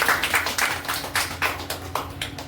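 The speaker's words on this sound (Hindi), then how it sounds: "ताली बजाओ यार" At a talk in Navi Mumbai, a small audience claps in quick, uneven bursts, several sharp claps roughly every quarter second, moderately close and continuing steadily without speech.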